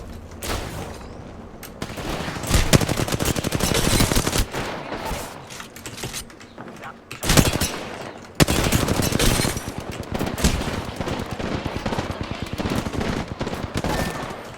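Gunfire in an arena shooter game, loud rapid bursts of automatic fire crackling in long sustained volleys, broken by short pauses, with sharp close shots throughout.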